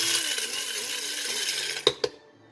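A coffee grinder grinds beans for pour-over coffee, a steady close whirring buzz that runs for most of the moment, then two sharp clunks before it stops abruptly into quiet.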